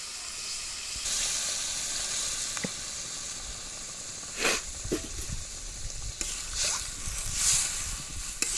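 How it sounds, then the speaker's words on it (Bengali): Water hits sizzling egg curry masala in a pan, raising a steady hiss of steam with a few louder bursts of sizzling and light clinks, close and fairly quiet. "আমার কষা হয়ে গেছে আমি এবার জল দিয়ে দিচ্ছি"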